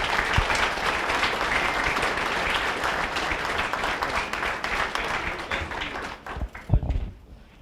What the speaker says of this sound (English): one more round of applause, ladies and gentlemen, to Chris Larson.